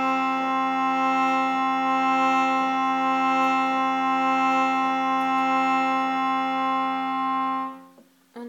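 A shruti box sustains a single steady reed drone, rich in harmonics, loud and close with no talk, then stops abruptly near the end with a brief bellows or key noise.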